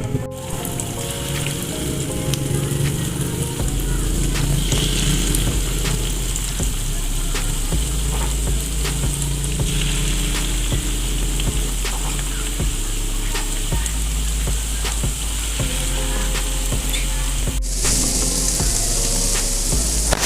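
Corn fritters (perkedel jagung) frying in hot oil in a home kitchen, a steady dense sizzle and crackle that runs the whole time, close and loud, with occasional stirring clinks and no talking.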